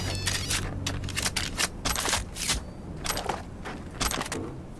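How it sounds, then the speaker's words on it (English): Rapid bursts of video game gunfire in Cyberpunk 2077, sharp cracks in quick irregular volleys, fairly close and loud over a low background rumble. "I hear gunshots again."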